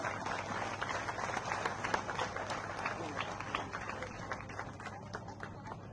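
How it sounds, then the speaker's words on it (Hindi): A crowd of students claps at Sachin Tendulkar's talk in Jagdalpur, a dense, steady patter of applause from a large hall, heard fairly faint and distant without a clear start or end. "सबके लिए तालियां बजा सकते हो।"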